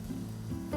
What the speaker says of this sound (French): Et nos légumes légèrement réchauffés en poêle avec du beurre.